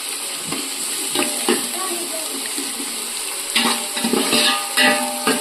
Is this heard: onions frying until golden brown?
yes